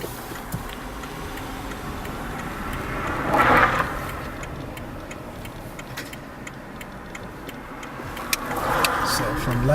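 Car cruising on a three-lane city road after a left turn, with a steady road and engine rumble, a faint rhythmic ticking like a turn signal, and two louder swells of passing traffic noise.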